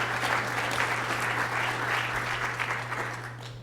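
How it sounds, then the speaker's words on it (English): A room audience at a rural community talk event applauds steadily for a few seconds, the clapping fairly distant and even, with a low electrical hum beneath it. "Another round of applause."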